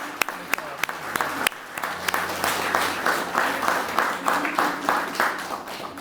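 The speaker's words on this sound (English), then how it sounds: "So another round of applause" Audience applause at a ribbon cutting ceremony for Bloom Market on High Street, a crowd clapping steadily throughout with some sharper individual claps early on, mid-distance and moderately loud, with faint voices mixed in.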